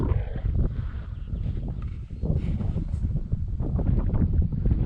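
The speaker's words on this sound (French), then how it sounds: "Il y a du vent." Strong wind in Turkey at sunset buffets the microphone continuously, a loud low rumbling roar that swells and dips without pause.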